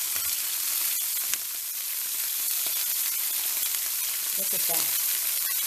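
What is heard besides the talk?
meat sizzling as it browns in a pan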